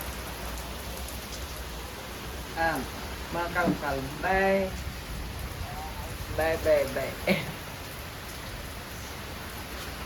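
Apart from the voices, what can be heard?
heavy rain falling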